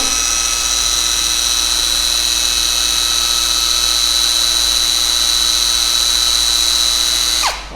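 Lightweight Ronix impact driver with 280 N·m of torque runs free on its third speed setting at about 2380 rpm, giving a loud, steady, high-pitched whine for several seconds before it spins down at the end.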